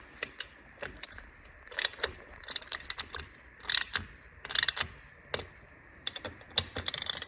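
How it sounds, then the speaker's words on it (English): A quarter drive ratchet tightens bolts on Akrapovic carbon fiber heat shields on a BMW R NineT Racer exhaust. Close bursts of fast metallic clicking come in irregular spurts separated by brief pauses. "I'm going to swap over to a quarter drive ratchet now"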